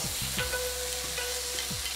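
Chicken strips sizzle steadily in a hot pan, with several quick scraping stirs cutting through the constant frying hiss, close and fairly loud with no talking.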